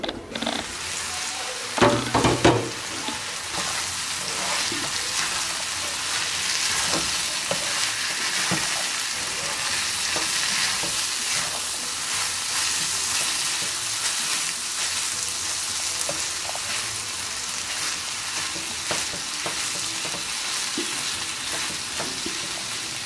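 A curry with green chillies cooks in a covered pan, giving a steady, even sizzle throughout, with a brief clatter of a lid or utensil near the start and no voices.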